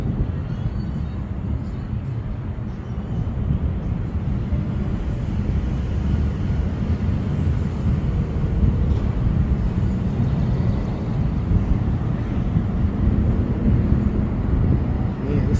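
Steady wind roars and buffets the microphone outdoors in a park while a small whoop-class FPV quadcopter flies, a loud continuous low rumble filling the whole stretch with no clear breaks.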